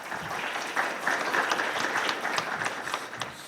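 Audience applause at a lecture on race in America at Baruch College, a steady mid-level patter of many hands clapping that carries on for several seconds without talk over it.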